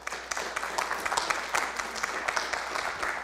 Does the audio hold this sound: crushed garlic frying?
no